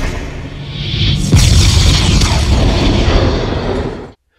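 A film explosion as the T-1000 is hit by a rocket launcher: a loud, booming blast that swells after a brief whoosh and rumbles for about three seconds before cutting off abruptly.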